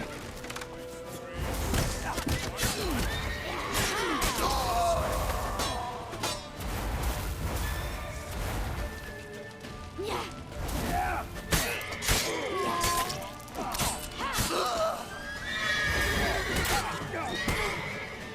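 Horse whinnying in The Witcher 3 on PS4, the neighs rising through a loud, busy game mix of crashing, thudding impacts and hoofbeats, with some shouted game voices throughout.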